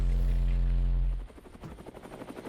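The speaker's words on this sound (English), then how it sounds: "Helicopter sounds." Helicopter-style sound effect in a K-pop music video: a loud, steady low droning rumble for about a second, then it cuts to a rhythmic pulsing beat with sharp percussive hits.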